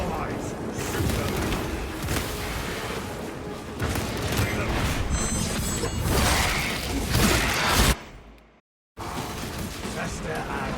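Gunfire and mechanical weapon noise from a video game rings out densely and fairly loud for about eight seconds, then cuts to a brief silence before the game sound returns, with spoken voices mixed in.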